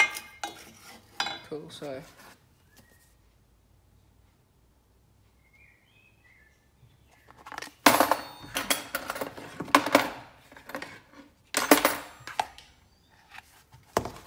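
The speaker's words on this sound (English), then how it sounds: "Now, wooden spoon. Mix up a bit." Trifle mixture stirred in a bowl with a wooden spoon, knocking and scraping in bursts around a long quiet gap, with a brief spoken remark early on.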